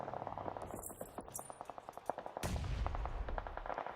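Grenade bombardment in a PUBG Mobile esports match: a quick series of sharp rattling blasts and pops, followed by a heavier booming explosion with a low rumbling tail.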